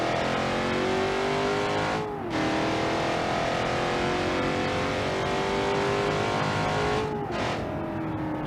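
A simulated car in a BeamNG.drive drag race launches and accelerates, its engine roaring loud and continuous as the pitch climbs, with two brief drops at gear shifts before it winds up again.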